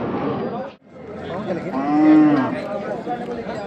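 A cow lets out a long, loud moo up close, with people talking around it at a busy outdoor bull market in Chakan.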